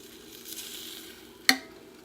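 Chicken cooks in a Bella air fryer, giving a steady soft hiss and faint sizzle with a constant fan drone, broken by one sharp, close click near the end.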